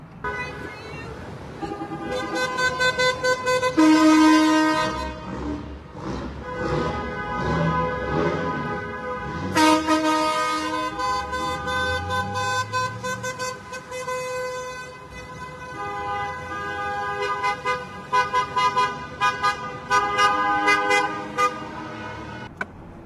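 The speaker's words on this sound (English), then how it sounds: "As you guys can hear, we are out on a little convoy this morning" A convoy of trucks over 3 kilometres long cruising in the morning, with loud, repeated horn toots and blasts in overlapping bursts over rumbling engines, some sustained and some short.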